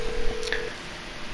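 A cell phone in GTA Online (Tuners update) gives a steady electronic dial tone followed by a brief keypad beep, heard over faint background noise.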